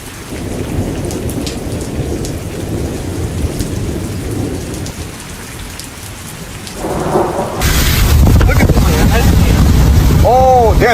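Heavy rain pours down in a storm while thunder rumbles, then the downpour grows louder and harsher. A person speaks over it near the end.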